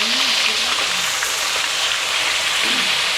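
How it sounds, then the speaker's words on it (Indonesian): Spiced chicken (ayam rempah) fries in hot oil with a constant dense sizzle and crackle, close and fairly loud, with a faint voice now and then underneath. "Saya mau goreng ayam rempahnya ya."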